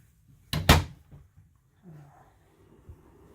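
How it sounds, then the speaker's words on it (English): Soft-close storage drawers in a 2015 Forest River Sandpiper 378FB fifth-wheel RV shut with one firm, close thud, followed by a few faint knocks and rustles in a quiet interior. "Great storage drawers, again with the slam slow close feature."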